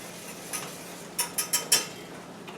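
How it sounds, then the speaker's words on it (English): Metal utensil clinks and scrapes in a pan while glaze for leftover roast pork is stirred, a run of four quick, bright taps in the middle with softer scrapes around them, close by and without talk. "Keep stirring the glaze."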